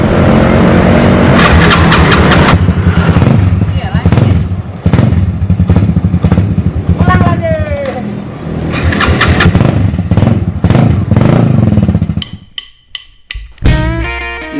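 Yamaha Scorpio motorcycle built in Jap style roars loudly on a test ride, revving and surging in repeated bursts with gear changes, then cutting to a few sharp thumps and quieter engine noise at the end.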